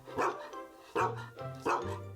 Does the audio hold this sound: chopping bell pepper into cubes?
no